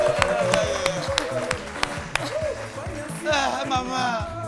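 Applause from a studio audience on a midday French-language TV show, steady clapping blended with crowd noise and music, with voices mixed in throughout.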